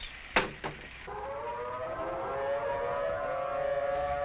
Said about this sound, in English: Okay, I'm going to sound the sirens.